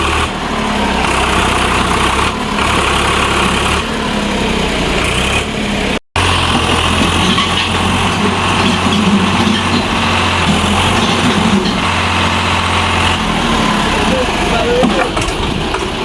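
A tractor engine, brought to tow a stuck tempo, idles loudly nearby with a steady low chug, cut briefly once, while people talk over it.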